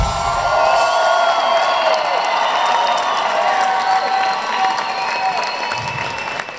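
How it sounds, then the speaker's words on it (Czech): A large concert crowd at O2 Universum in Prague applauds and cheers for a rock band, dense sustained clapping with whoops and shouts, loud and continuous throughout. "velký potlesk pro mě"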